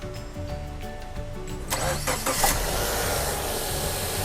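A car engine cranks briefly and catches, jump-started from a 10000mAh 500A power bank starter, then settles into a steady close idle.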